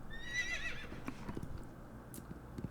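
In the video game Horse Riding Classic, a horse gives a bright whinny, followed by steady clip-clop hoofbeats, fairly close and clear, with no talking over it.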